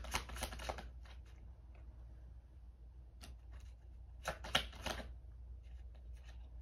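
Cards being shuffled during a card reading: soft, quick riffling bursts in clusters, close and quiet, with brief pauses between rounds of shuffling.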